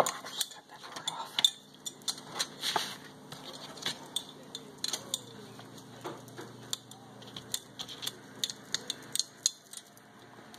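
A knife cutting frozen chicken on a board, a run of quiet, irregular scraping clicks and taps close up, with faint background hum and no talking.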